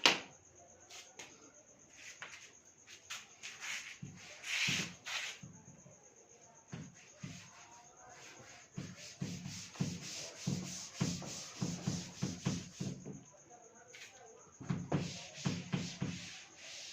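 Something is rubbed by hand in repeated close strokes, sounding as irregular scratchy bursts that grow busier and denser toward the end, over a faint steady high background tone.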